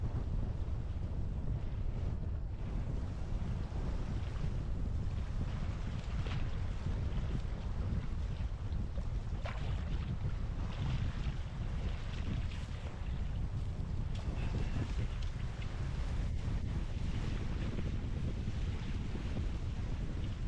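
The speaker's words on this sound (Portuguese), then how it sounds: "Amigos, desculpem pelo vento" Wind buffets the microphone beside a swamp lake, a constant loud low rumble of gusts running unbroken throughout with no voices.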